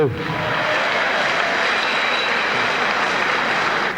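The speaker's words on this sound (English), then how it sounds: "how about a big round of applause for Jason Larson" Crowd applause after a boxing bout, a broad steady wash of clapping and noise from a packed arena that holds at an even level and sounds close.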